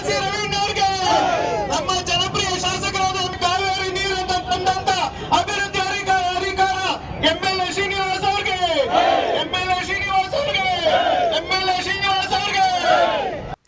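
Congress party workers chant slogans hailing Chief Minister Siddaramaiah and Deputy Chief Minister D.K. Shivakumar in Nelamangala, a crowd of voices shouting in repeated rhythmic bursts with brief pauses, loud and sustained throughout.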